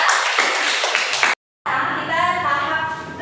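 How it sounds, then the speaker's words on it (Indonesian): Classroom clapping for a student group after a lesson presentation; a burst of close, uneven hand claps, a brief silent gap, then softer clapping and room murmur. "Tepuk tangan untuk kelompok 3."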